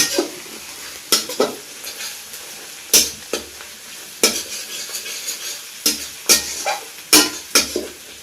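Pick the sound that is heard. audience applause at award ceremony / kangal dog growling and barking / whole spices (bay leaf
whole spices (bay leaf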